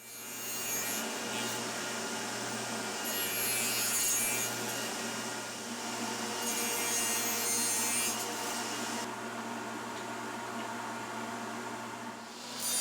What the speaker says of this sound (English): I cut 3 equally spaced dados to fit the boards for the shelves on both side pieces